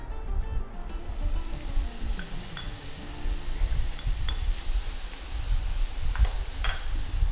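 Tuna frying in a little olive oil in a pan, a low steady sizzle with a few soft clinks and scrapes from stirring, heard close with no voice over it.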